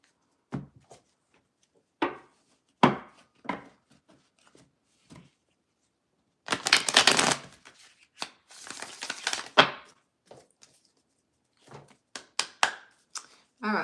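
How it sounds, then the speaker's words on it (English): Tarot cards are shuffled by hand in a quiet room, scattered crisp riffles and taps with a denser burst of rapid flicking midway, close and fairly soft, no talking. "I'm going to do one more shuffle."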